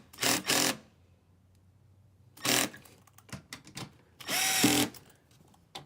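A Milwaukee power drill driving screws into a distribution panel in a Ford Transit camper van, with three short whirring bursts, the last ending in a brief pitch drop, plus small handling clicks between them, close and loud.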